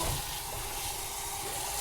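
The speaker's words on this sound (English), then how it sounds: "And I got hot water running here." Hot tap water pours steadily into a Vinchef non-stick deep frying pan in a kitchen sink, rinsing off stuck sausage, potato and onion residue with a continuous close hiss and splash.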